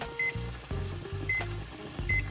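Phone timer being set for boiling rosemary oil, giving a quick series of short electronic beeps and tones in an irregular rhythm, close and clear with no talking.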